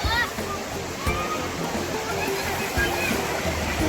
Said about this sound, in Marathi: सर्वात बेस्ट धबधबा बोलू शकतो या एरियातला धबधबा